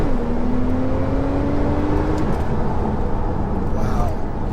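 A Porsche 911 Turbo S engine drones steadily from inside the cabin, with a low rumble and a faint rising tone as it drives.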